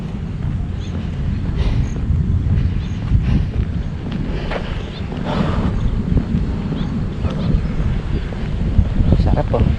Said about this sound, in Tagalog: Sarap po. Sarap ng hangin.